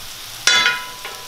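Vegetables fry in a hot pan while being stirred for lazzat-kabob, a sudden bright sizzle swelling after a short quiet, fading, then a smaller second hiss near the end.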